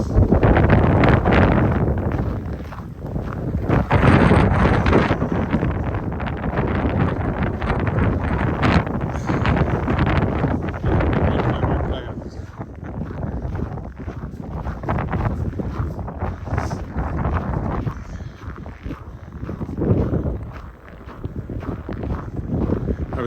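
Wind gusting across the microphone on a snowy pre-dawn walk along a creek in Regina in December, a loud continuous rumbling roar that swells and dips throughout without letting up.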